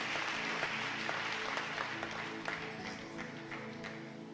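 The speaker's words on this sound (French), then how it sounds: "Un bal éternel, un bel applaudissement pendant Sœur Betty va nous plus d'informations par rapport à ça" Church congregation at a praise and worship service clapping together, a dense, fairly even round of applause that carries on steadily without talk over it.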